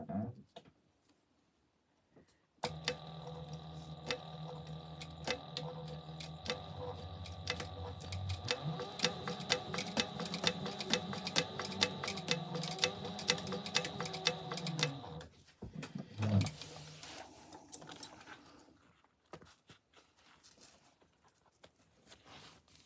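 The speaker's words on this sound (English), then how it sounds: "now we're just gonna stay stitch these with 1/8 of an inch" A sewing machine stay stitching fabric about 1/8 inch from the edge runs in a steady, close, fast clatter for about twelve seconds, stops, then a few quieter handling sounds follow.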